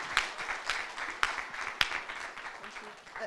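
An audience applauds at the close of a panel discussion on road infrastructure safety: moderate, scattered clapping with a few sharper claps standing out and voices mixed in.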